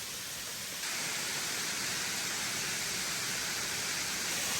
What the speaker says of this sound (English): is another waterfall that we're gonna check out